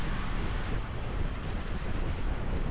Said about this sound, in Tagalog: malakas na alon at hangin ang sumasalubong sa amin